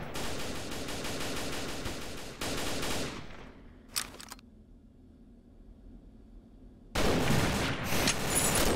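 Rapid automatic gunfire in the video game Combat Arms rattles in dense bursts, stops, gives way to a couple of isolated shots and a near-silent gap, then resumes loudly.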